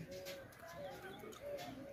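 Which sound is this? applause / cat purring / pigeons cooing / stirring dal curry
pigeons cooing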